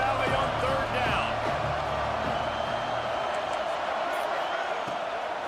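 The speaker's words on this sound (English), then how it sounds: "Here comes the noise from this big crowd in Happy Valley on 3rd down." Big stadium crowd roar in Happy Valley on 3rd down during a Penn State versus LSU college football video game, a steady dense wash of crowd noise with scattered whoops and thumps throughout.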